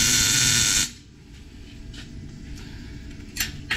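A brief, loud burst of MIG tack welding on a steel I-beam set up in a T shape, a dense crackling hiss that stops abruptly, followed by quiet shop ambience with a few faint clicks.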